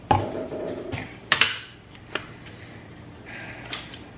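Ceramic dishes clink and clatter in a kitchen as a bowl is pulled from a stack, a few sharp knocks and rattles with quiet pauses between them.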